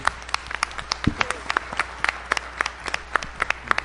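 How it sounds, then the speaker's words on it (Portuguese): A small audience at a consumer-protection event claps for a committee. The claps are sparse and fairly loud, with brief voice sounds mixed in. "peço uma salva de palmas a essa comissão"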